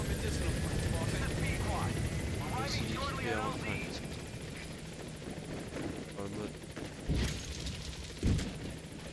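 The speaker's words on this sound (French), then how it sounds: "On va demander l'hélico en attendant." A helicopter arrives in the video game Metal Gear Solid V, its rotor drone steady beneath game sounds and people talking, with a few sharp thuds near the end.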